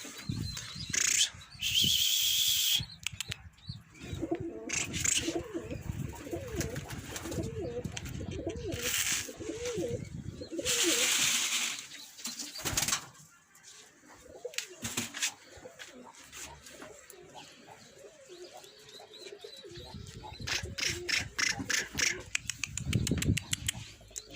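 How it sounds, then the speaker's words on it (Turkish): Pigeons cooing and wings flapping as a coop is opened during training of newly acquired tumbler pigeons, with several bursts of wingbeats and steady nearby coos over a soft background. "Evet kümesimizi bir açalım. Kuşlarımız bir gelsin."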